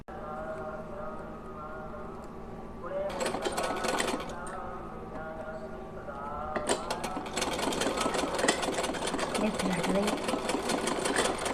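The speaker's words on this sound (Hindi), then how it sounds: "यहाँ पर एक सिलाई लगाते हुए इस तरह से हम लेस को लगा देंगे यहाँ पर, और सिलाई लगा देंगे" Sewing machine stitching lace onto a small Laddu Gopal dress, with a low hum at first and then loud bursts of rapid needle chatter, a pause, and a longer run of stitching.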